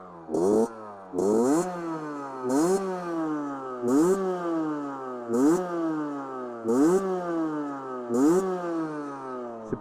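A 50cc AM6 motorcycle engine revs repeatedly in a steady rhythm, each rise followed by a falling drone, loud and close with no talking.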